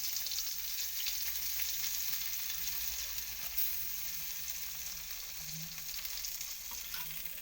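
Garlic, ginger and nigella seeds sizzle steadily in hot oil for a tempering, a continuous close crackling hiss with no talk.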